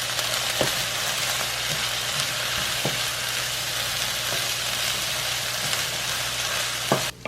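Peppers and onions fry together in a pan, sending up a constant close sizzle, with a few scraping stirs and clinks of a utensil against the pan.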